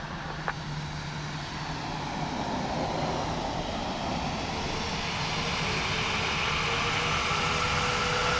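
An airplane lands at Dublin Airport on runway 28 left, heard as a steady jet-engine roar that stays constant and slowly grows a little louder, with no voices.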